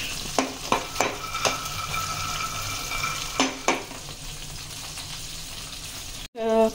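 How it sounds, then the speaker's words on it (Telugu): Peanuts fry in a pan with a steady, fairly loud sizzle, punctuated early by several crisp clinks of a spoon against the pan, before a brief dropout and a sudden surge at the very end. "పల్లీలు వేగిపోయాయండి, చాలు."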